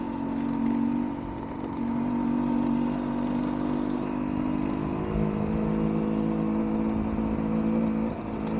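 A Rieju 300 MR Pro motorcycle engine hums on a test ride as a steady mid-pitched drone. The rev level holds fairly even with slight shifts, it stays moderately loud throughout, and there is no talking.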